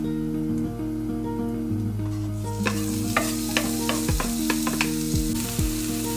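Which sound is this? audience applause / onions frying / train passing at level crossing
onions frying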